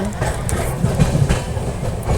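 Onboard the Howrah to Jammu train 12331, a steady rumbling rattle of the moving carriage with faint clickety-clack fills the space, loud and continuous, with faint voices mixed in.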